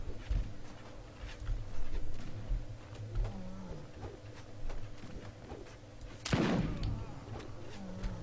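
Pirate pistol shots in a fantasy video game ring out as scattered sharp cracks, with one strong booming blast late on, over a low background hum and soft game sounds. Loudness is moderate and no speech is heard.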